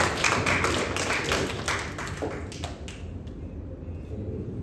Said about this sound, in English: Come on, round of applause, guys